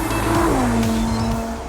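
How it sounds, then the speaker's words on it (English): A Lamborghini Huracán V10 engine revs briefly at high pitch, then the tone drops and settles into a steady drone, close by with no voices. "with a few revs on the clock, that sounds more like a V10 should"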